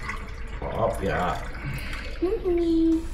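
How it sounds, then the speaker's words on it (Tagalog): Water poured into a betta fish bowl while cleaning it, heard as close splashing and trickling under a brief spoken word. "Pag nandiyan siya, dagdagan na lang natin ang tubig."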